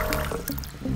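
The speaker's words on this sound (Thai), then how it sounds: "โอ้น้ำไหลแรงดีมากครับผม" Water gushes strongly from a newly bought machine, a close, continuous splashing and trickling pour with some gurgling.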